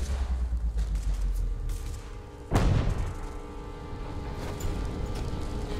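A grenade blows up inside a tank in The Walking Dead Destinies game: one sharp, loud boom at mid-clip that rises over a low rumbling background and then fades slowly into a lingering tail.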